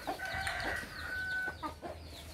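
Chickens and a rooster on a Vietnamese farm cluck and squawk in a busy overlapping chorus, with sharp calls standing out near the start and middle, close by and without talk.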